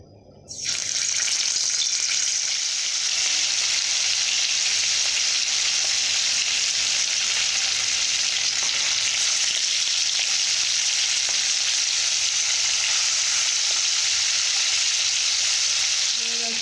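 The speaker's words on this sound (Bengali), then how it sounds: "কড়ার মধ্যে তেল গরম করতে দিয়েছি তো আমি সাদা তেল দিয়েছি এখানে দিয়ে আমি এবার মাছটাকে আমি ভেজে নেব" Fish fries in hot white oil in a wok with a loud, steady, close sizzle that starts abruptly and holds without a break, no one speaking.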